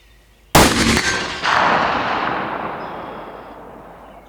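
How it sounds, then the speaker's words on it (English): A single sharp rifle shot fired at a target 100 yards away cracks loudly, followed by a second burst of report and a long rolling echo that fades over several seconds. "there's our first shot, good confirmation of our zero"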